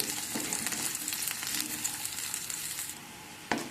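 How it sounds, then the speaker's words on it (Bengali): Capsicum frying lightly in oil in a pan, a continuous close crackling sizzle with light stirring scrapes, then a sharp knock near the end. "ক্যাপসিকামটাকে আমি হালকা করেই ভেজে নেব, বেশি ভাজবো না।"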